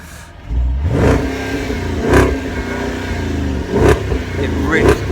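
Supercharged 5-litre V8 engine of a 2009 Jaguar XKR revving hard several times, deep throaty blips rising and falling with sharp exhaust pops, close and loud.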